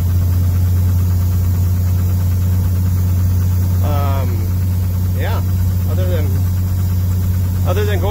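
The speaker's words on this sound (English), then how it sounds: "you really got to stomp on the foot feed to get the throttle to work" The engine of a Peterbilt 352 cabover truck runs under throttle on a first test drive. It gives a loud, steady, low diesel drone with heavy vibration, and a few short squeaks and rattles break through it.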